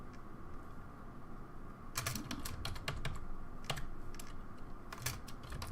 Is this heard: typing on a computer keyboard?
yes